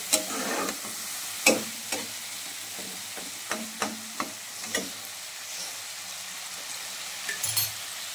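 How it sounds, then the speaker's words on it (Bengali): Spice masala for chicken kosha frying in a pan with a little water, a soft continuous sizzle broken by repeated sharp knocks and scrapes of a spatula against the pot, fairly close and quiet. "আর একটু জল দিয়ে কষাবো।"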